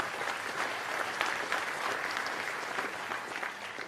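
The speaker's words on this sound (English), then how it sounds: "Thank you for that small clap for that." Modest applause from an audience at the Conservative Party conference, a steady wash of clapping hands filling the hall for a few seconds with no talk over it.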